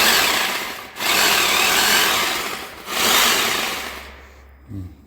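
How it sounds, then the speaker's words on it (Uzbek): A rotary hammer drill powered by a Deye 5 kW single-phase hybrid solar inverter runs in loud, harsh bursts. It dips briefly twice, then cuts off near the end, leaving a low hum. "Hozir mana perforatorda ishlatamiz."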